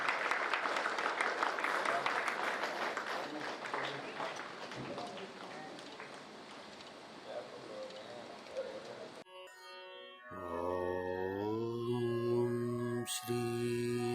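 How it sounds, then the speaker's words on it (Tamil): An audience claps steadily at a Navaratri festival programme for about nine seconds, the applause fading before a sung devotional melody begins. "நல்ல ஒரு கரகோஷம் கொடுத்து உற்சாகப்படுத்துங்க"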